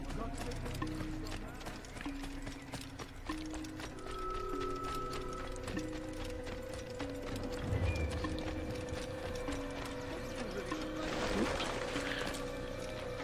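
Horse hooves clip-clop in the video game Assassin's Creed during a short ride, a steady trotting rhythm under game music and mechanical sounds, moderately loud throughout.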